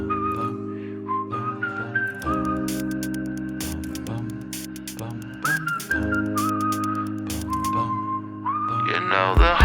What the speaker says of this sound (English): Now whistling.